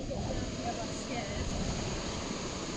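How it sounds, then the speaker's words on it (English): Steady rushing water roars continuously at Bell Gorge waterfall on the Gibb River Road, a broad even wash, with faint wind noise over the microphone. "So there's the waterfall."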